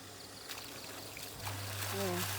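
Water gushes from a pump outlet like a waterfall, pouring and splashing steadily with a continuous rushing flow, growing stronger toward the end, with a low machine hum underneath.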